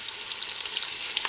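Vegetables for a beef stew sizzle and fry steadily in a hot pot, a dense crackling hiss with occasional sharper pops, close and continuous with no speech.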